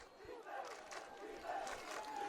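Crowd at a varsity high school football game against Bridgewater-Raynham roars with sustained cheering and chanting, a steady distant wash of voices at low level.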